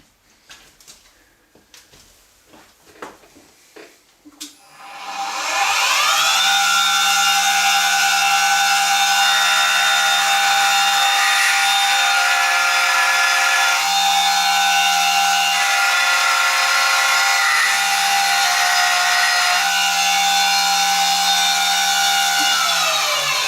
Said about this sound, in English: We're just running a 6mm 4-flute carbide deburring bit in there.